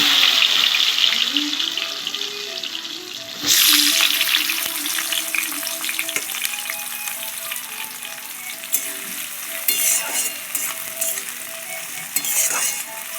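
Onion and tomato hitting hot oil with cumin and dried red chilli, a loud close sizzle that surges as they go in and keeps hissing steadily with stirring scrapes for several seconds.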